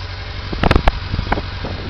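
A 1989 Honda CB-1 fitted with a Triumph Speed Triple silencer idles nearby in a low, steady burble with a few louder pops breaking through.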